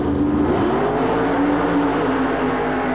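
A 10-foot-tall, 8-foot-wide monster truck on big tires makes a pit run at a 1988 USHRA event in Tucson. Its engine roars loudly and climbs in pitch as it revs, then holds a steady, heavy drone.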